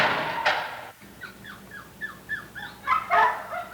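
Dogs bark and yelp in a rapid series of short, sharp calls, followed by louder overlapping barks near the end, heard from a moderate distance over a low background hum with no talk.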